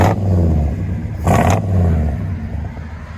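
A 1993 GMC K2500 with a 5.7L V8 and Magnaflow true dual exhaust rumbles at a deep idle close by, with one sharp rev swelling and falling back before settling into the rumble again.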